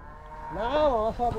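A cow at a crowded cattle market shed gives a single short, nasal moo, fairly close, rising and wavering before trailing off.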